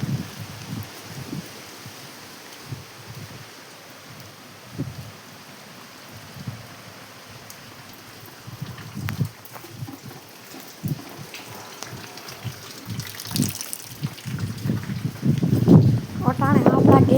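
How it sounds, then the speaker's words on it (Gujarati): Steady heavy rain falls on a farm with sorghum crops, a continuous hiss of close drops. A person talks over it in short bursts, and the rain grows louder toward the end. "અટાણે આપણા ઘેરે ફૂલ વરસાદ આવી ગયો છે."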